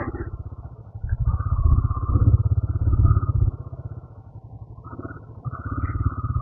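Royal Enfield Himalayan motorcycle ridden on a road trip toward a waterfall, its single-cylinder engine thumping steadily close by, swelling and easing as the throttle changes, with no talk over it.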